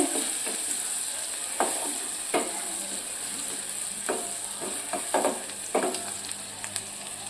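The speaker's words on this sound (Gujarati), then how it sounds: "એક ઝીણી સમારેલી ડુંગળી નાખીશું. આપણે ડુંગળીને થોડીક વાર સાતરવાની છે." Finely chopped onion sautéing in a pan for a traditional Gujarati moth bean curry, a steady close sizzle broken by occasional sharper stirring scrapes, with no talking.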